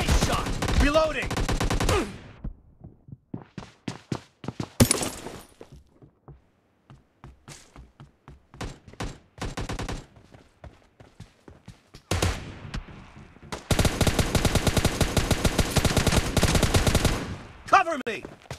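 Gunfire from a battle royale video game, with bursts of rapid automatic fire and single shots, loud and close, some sustained strafing stretches broken by short pauses, with brief voice callouts in between.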